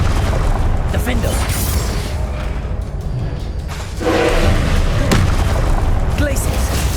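Confringo fire spells exploding during Hogwarts Legacy combat, a loud dense roar of booms and rumbling blasts that swells again after a brief dip, with a voice casting spells over it.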